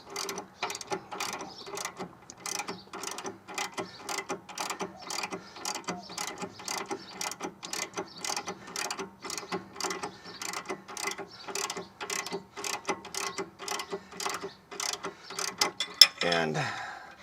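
A hex wrench ratchets on the hex nut of a car's sway bar link shaft, giving a steady run of quick, close clicks that ends in a small clatter.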